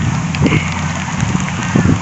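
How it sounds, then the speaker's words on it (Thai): Rain falling on a rice field during harvest, a steady close hiss and patter with occasional muffled thumps and faint voices in the background. "ฝนตกแล้ว"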